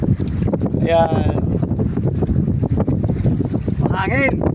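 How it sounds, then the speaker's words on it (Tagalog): Strong wind buffets a fishing boat at sea, roaring steadily into the microphone, while voices speak briefly over it. "Mahangin. Kasang hangin."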